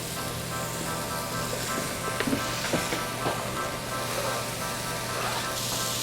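Peppers and onions sizzle in a pan alongside caramelizing squash, a steady soft hiss under a low background hum, with a few light clinks and no talking.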